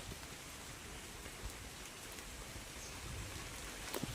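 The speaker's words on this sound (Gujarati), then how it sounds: "વરસાદ પણ કન્ટિન્યુ શરૂ છે" Soft, steady rain falls continuously, a faint even patter with a few slightly louder drops near the end.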